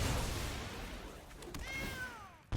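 A cat creature's meow from the MTG Arena card game, a short rising-then-falling cry near the end over low game background noise.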